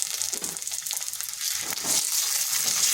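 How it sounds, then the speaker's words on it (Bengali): Ginger and garlic paste frying with lightly browned onions in a pan for a prawn and cucumber curry: a dense, close sizzle with quick scraping stirs, growing a little louder toward the end, no talk. "দু কোয়া রসুন আর কয়েক টুকরো আদা একটু ভেজে নিচ্ছি"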